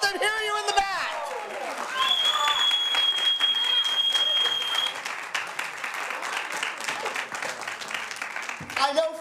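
An audience claps for presenters at a Juneteenth celebration event, steady broad applause from a sizable crowd lasting several seconds, with a voice talking over the start and a whistle-like tone briefly cutting through.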